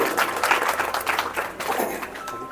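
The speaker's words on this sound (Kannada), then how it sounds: "ದಯವಿಟ್ಟು ಕ್ಲಾಸ್ ಚಪ್ಪಾಳೆ ನೋಡಿ ಪ್ರೋತ್ಸಾಹ ಕೊಡ್ರಿ ಮಕ್ಕಳನ್ನು" A school audience at a prize-giving ceremony for primary and high school pupils gives a short, even round of applause, a soft, steady patter of many hands heard from a moderate distance with no voices over it.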